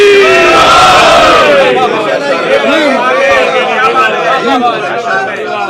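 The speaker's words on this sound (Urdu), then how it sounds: "چلا کے بولو، دشمن بھی سن لے، دشمن بھی سن لے، اللہ بھی سن لے، نعرہ حیدری۔" A religious gathering at a majlis erupts into the massed Naara-e-Haidari slogan, many voices shouting together loudly at close range, then the roar trails into a murmuring crowd babble.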